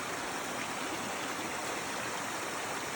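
A creek flows steadily along a hiking trail, a close, continuous wash of rushing water with no other sounds over it.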